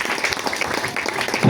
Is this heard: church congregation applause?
yes